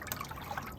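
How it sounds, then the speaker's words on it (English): Soap is stirred gently into a tub of wash water for finishing handspun grey yarn, producing soft, faint sloshing and trickling sounds with no talking. "I'm just gently mixing the soap up,"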